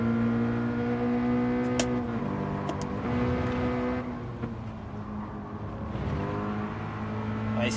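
A Toyota race car drifts at Suzuka in the video game Gran Turismo 7, its engine holding a steady loud drone that dips and swells as the revs shift through corners.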